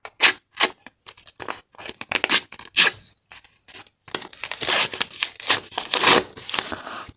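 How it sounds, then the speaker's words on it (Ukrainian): Paper crinkles and tears in short bursts, then rustles more steadily as a packet is pulled open, close by with no talking. "І відкриваємо наш пакетик."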